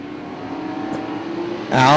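Race cars at Punta Gorda Speedway drone steadily at a distance, then a louder surge of accelerating engines swells at the end; a commentator's voice sits under the noise.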